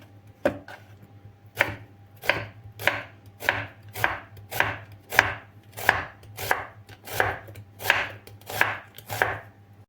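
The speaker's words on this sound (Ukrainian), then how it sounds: "Нарізаю цибулю півкільцями." A knife chops steadily on a cutting board, slicing an onion into half rings, about a dozen crisp, evenly spaced cuts close up, with no talking.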